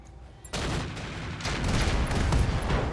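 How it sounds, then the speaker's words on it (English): Mech weapons fire in the BattleTech RogueTech game, a Bull Shark unloading on a Frankie, as a sudden loud barrage erupts after a quiet start and rumbles on in heavy, continuous bursts with no talk. "And so the Bull Shark is just going to fire on the Frankie again."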